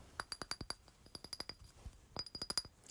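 Fingertips or a nail tap on a glass in quick bursts of light, ringing clinks, close and quiet with short pauses between runs and no talking.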